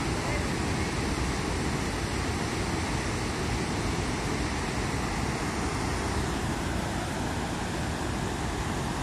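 Floodwater from the Gandhi Sagar dam, with all its gates open, rushes into the flooded yard of the dam's power house. It makes a loud, steady broadband roar of churning water that lasts throughout without a break.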